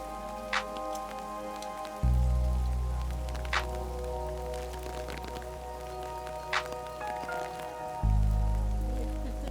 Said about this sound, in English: It was a rainy day, but that didn't diminish our enjoyment of the tour whatsoever.